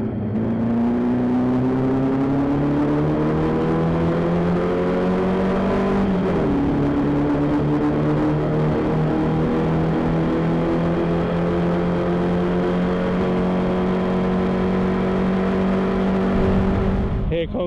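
Formula Vee race cars at Kirkistown scream down the straight toward the hairpin, a continuous loud engine drone with rising and shifting tones as several cars jostle close together, pitch dipping briefly midway before climbing again.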